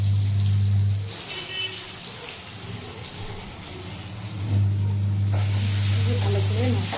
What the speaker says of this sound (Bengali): দেখো বাঁধাকপিটা রান্না করছি